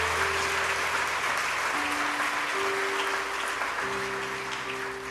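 Church congregation applauding during a Portuguese-language sermon, a steady dense wash of clapping that fills the room throughout, with sustained organ or keyboard tones held underneath.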